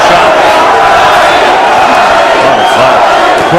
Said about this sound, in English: Crowd trying to get behind Duddy.